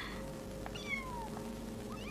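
A small kitten on a street in Rome gives several faint, thin meows, a few scattered cries over a steady low background hum, with no talk.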